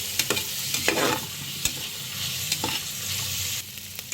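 Garlic cloves frying in a pan over a low flame give a steady soft sizzle, with occasional scraping clicks from stirring and no voices.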